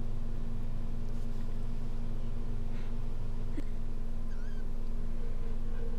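Kittens in a basket give a few faint, short mews over a steady, noisy background hum, with no talking.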